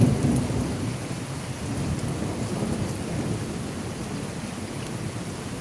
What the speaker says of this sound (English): Some good lightning out that way.